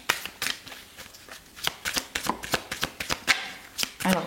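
Tarot cards are shuffled by hand close up, giving quick crisp slaps and riffling snaps in an uneven rapid rhythm, soft and unaccompanied.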